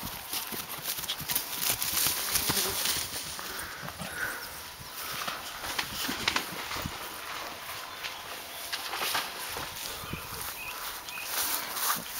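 Hooves of young foals moving around a farm, with irregular clip-clop steps at close range over steady background noise and no clear talk.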